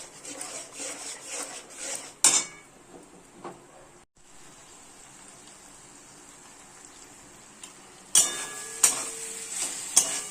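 Potato and paneer masala stir-fried in a pan with a little water and turmeric, a soft continuous sizzle with scraping and stirring strokes of a spatula, sharper louder scrapes near the start and end.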